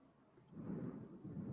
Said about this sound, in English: This is an ominous environment with the thunder claps.